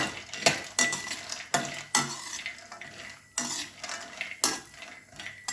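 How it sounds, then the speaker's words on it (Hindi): Cashews fry in ghee over a medium flame while a metal spoon stirs and scrapes the pan in repeated sharp strokes, with a faint sizzle underneath. "अब काजू डाल देंगे, इनको भी हम हल्का हल्का फ्राई कर लेंगे।"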